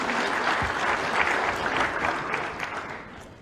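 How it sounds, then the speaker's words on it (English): Sustained audience applause at a lively event after a musical performance, dense steady clapping throughout at close range with no talk over it. "Round of applause for him,"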